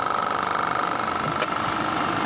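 A car engine drones steadily and loudly with a rough mid-range hum while the gas pedal is pressed, alone without talk.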